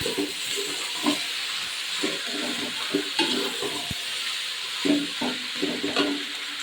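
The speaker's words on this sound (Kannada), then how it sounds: "ತೊಂಡೆಕಾಯಿ ಚೆನ್ನಾಗಿ ರೋಸ್ಟ್ ಆಗಬೇಕು" Ivy gourd sizzles as it roasts in a pan with scattered stirring scrapes and clinks, steady hiss throughout, close and moderately loud, no talking.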